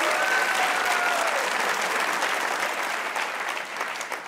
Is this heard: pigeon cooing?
no